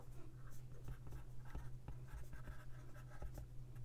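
A stylus writes with a pen tool on a tablet in a digital planner: faint, quick scratchy taps and strokes under a low steady hum, close and quiet, with no talking.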